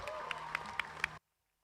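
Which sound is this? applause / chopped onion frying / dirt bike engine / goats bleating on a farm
applause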